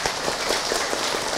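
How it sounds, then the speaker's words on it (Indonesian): An audience at an Islamic talk by Ustadz Zacky Mirza claps for him, a dense, even wash of many hands clapping at once, steady and fairly loud throughout. "Tepuk tangan buat Ustadz Zaki Mirza."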